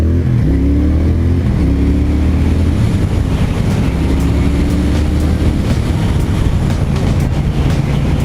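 Triumph Thruxton R motorcycle accelerating through the gears in the rain, loud close engine drone with rising pitch sweeps and shifts, continuous with no talk over it.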